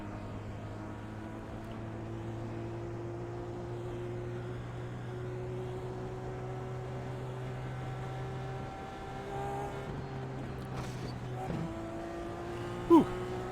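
IndyCar racing engines at Texas in a racing video game, a steady loud engine drone with rising pitch sweeps as the car accelerates, continuous throughout with a brief sharp knock near the end.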